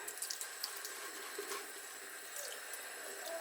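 Tap water runs steadily into a sink while a makeup brush cleaning mitt is rinsed, a soft continuous splashing hiss at close range with no talking.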